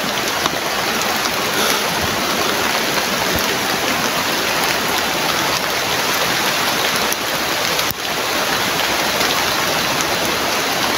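Rain falls steadily close by in a dense, constant hiss that stays even from start to finish, with no voices.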